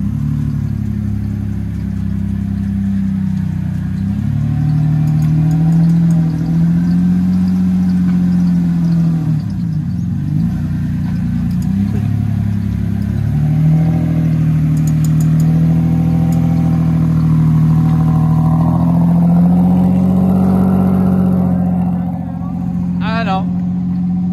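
A Lexus SC300 with modified exhaust drones steadily while driving, with the engine pitch rising and falling through shifts and revs, loud and continuous.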